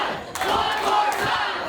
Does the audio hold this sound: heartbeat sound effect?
no